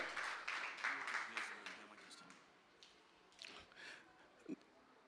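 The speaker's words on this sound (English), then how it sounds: "give a big round of amen and clap to our mother choir" A church audience at a youth choir concert claps for the mother choir, a dense burst of applause in the first two seconds that thins and fades, with talk and scattered claps continuing beneath.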